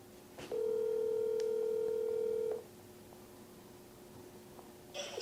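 A phone call placed to a guest during a live sports talk show, heard as a steady electronic ringback tone lasting about two seconds, then a quiet line with faint clicks before a brief sound of the call connecting.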